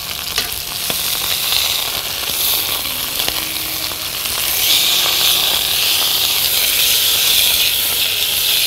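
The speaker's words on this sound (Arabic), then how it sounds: "نحمر الجنب ده كمان." A stuffed turkey breast browns in a hot pan, giving off a loud, steady sizzle and hiss that swells slightly midway, close and continuous with no talking.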